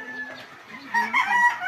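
Chickens and roosters inside a chicken coop, a short, close crow and clucking heard alone without talk.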